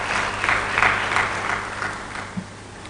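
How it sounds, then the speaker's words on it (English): Audience applause at a business and investment forum, a steady wash of many hands clapping at moderate volume for about three seconds, with no talk over it. "Once again, clap for ourselves."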